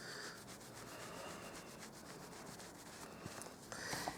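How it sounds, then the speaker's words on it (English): Steady rubbing of a microfiber cloth wiping a craft sheet clean of ink during card making, a continuous soft swishing friction with a few slight bumps near the end, close up and alone. "So I'm just giving that a good clean with my microfiber cloth."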